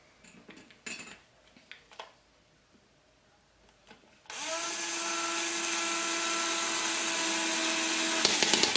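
A few clinks and taps of parts being positioned on a 380 quad frame, then a power drill starts and runs steadily at high pitch, driving a 5/8 screw, loud and close.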